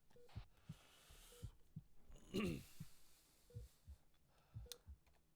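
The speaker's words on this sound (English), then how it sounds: "I can hear heartbeats and everything." In the Arma 3 video game, heartbeat effects play as a soft, steady double thump repeating about once a second, faint and low, with light clicks in the background.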